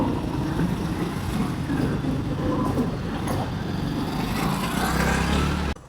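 A petrol motorbike's engine drones continuously while riding, a steady low rumble mixed with gusty wind buffeting the microphone, ending with a sudden drop near the close.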